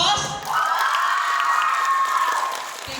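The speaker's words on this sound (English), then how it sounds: "Can you give me a big round of applause?" A large audience at an English speaking contest cheers and whoops loudly and continuously, a sustained roar of crowd noise with shouting voices that swells after a brief start and fades slightly near the end.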